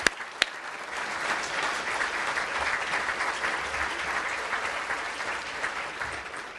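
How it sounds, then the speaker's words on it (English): Applause from a chamber of commerce audience, a steady wash of clapping at moderate distance that carries on evenly, with a couple of sharp knocks at the start. "Let's give them a round of applause"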